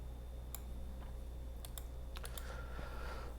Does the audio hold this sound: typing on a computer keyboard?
yes